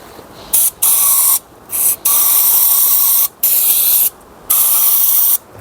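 Brake cleaner blasts from an aerosol can into the intake manifold of a Mercedes CL 600 V12, a loud close hiss in about six sprays of varying length separated by short pauses.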